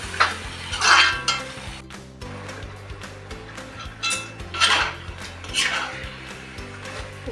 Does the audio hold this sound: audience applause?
no